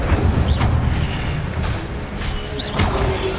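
A fire spell cast in Hogwarts Legacy on PC rings out as a loud, dense booming whoosh with bursts of flame and impact, sustained over several seconds amid other spell effects.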